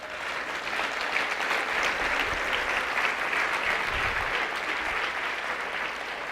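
A church congregation claps together steadily and loudly, sustained applause filling the room without a break.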